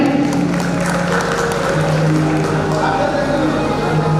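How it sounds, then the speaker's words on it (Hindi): An audience applauding at a gathering in Ambikapuri Parmahans Nagar, dense sustained clapping at a steady level with a tonal hum running beneath it and voices mixed in. "तालियां बजाएं एक बार बहन।"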